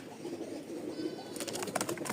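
A male pigeon that has just been caught and is held in the hand gives soft, low cooing, joined near the end by louder fluttering bursts that sound like wingbeats.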